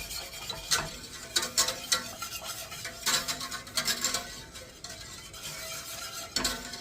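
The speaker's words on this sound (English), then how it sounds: "So you want to just keep stirring until it starts to thicken." A spoon stirs a brown sugar mixture for kimchi in a pot, giving close, uneven scraping and clinking strokes over a faint background hiss.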